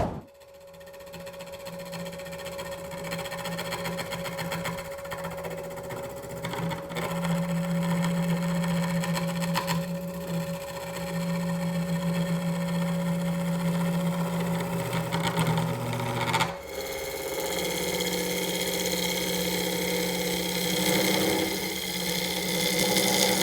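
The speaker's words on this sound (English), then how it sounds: "We get to head for the lathe and see what that bowl is going to look like." A wood lathe spins a segmented bowl with a steady, loud motor hum and whine that holds for over twenty seconds, shifting pitch and texture partway through as the turning continues.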